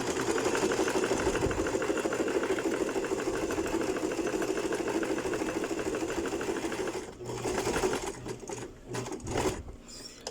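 A sewing machine stitches a zigzag seam on the fabric of a bodice or blouse, whirring steadily and loudly for about seven seconds, then stopping and starting again in short bursts.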